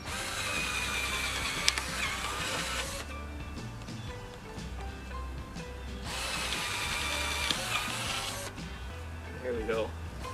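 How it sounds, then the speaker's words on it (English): A power drill drives screws while garden beds are being built outdoors, whirring in two long bursts separated by a quieter pause, then a short final spin. "It helps if you take the screwdriver out of reverse, or drill out of reverse."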